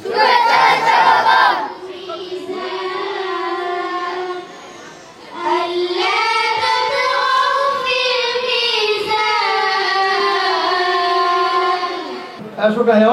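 Crowd at an orphanage and hafiz madrasa gathering shouting a loud, unified chant in answer to a Naraye Takbir call, with sustained group voices rising and falling in two long waves and a brief lull between them.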